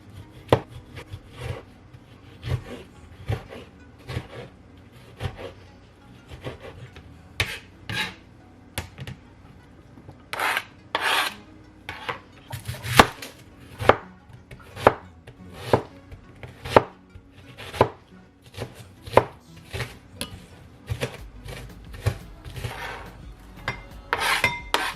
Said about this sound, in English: So I'm gonna cut up my onions and tomato.